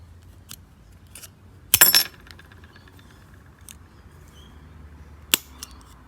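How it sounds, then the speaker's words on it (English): Silver rings being cut apart with hand snips, a loud sharp metallic snip followed by a clink, then a second crisp cut later, with faint small metallic taps between in a quiet workshop. "just snip them apart"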